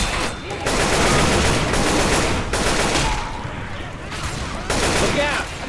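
Sustained bursts of automatic gunfire from a Left 4 Dead 2 firefight, loud and dense, rattling almost continuously with brief pauses between volleys, with voices faintly mixed underneath.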